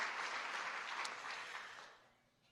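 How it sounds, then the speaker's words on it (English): An audience at a Guardian of Democracy award ceremony claps in a dense, distant-sounding patter that holds steady and then fades out near the end; fairly quiet. "Yes, definitely clapping"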